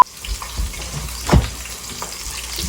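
Food frying in hot oil while friends cook together at home, giving a steady low sizzle with a brief louder burst of spatter as something drops into the pan, plus light clatter around it.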